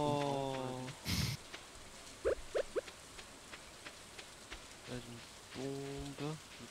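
Steady rain patters throughout in Stardew Valley, with game sound effects and brief French voices over it.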